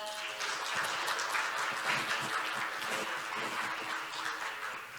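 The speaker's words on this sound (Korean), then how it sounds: "큰 박수 부탁드립니다." An audience at an international patent court conference applauds a judge introduced as session chair. The clapping is continuous and dense, heard from a distance in a large hall, and steady throughout.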